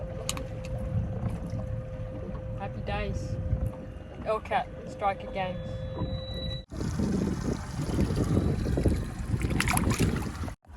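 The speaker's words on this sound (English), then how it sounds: "You can probably hear the engine still running, I haven't even turned it off." A boat engine hums steadily in the background, joined by wind noise and water sounds at sea while fishing, as someone talks over it now and then.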